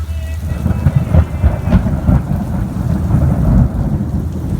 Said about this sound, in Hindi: तूफानी बारिश हो रही है